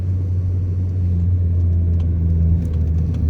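A Honda Civic engine drones steadily in second gear at 30 mph, just over 3,000 RPM, a constant low rumble heard from inside the car with no talking.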